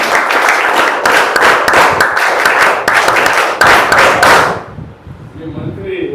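Applause from women attending a public meeting with a chief minister in Rampachodavaram, loud and sustained with rhythmic clapping for about four seconds, then fading out.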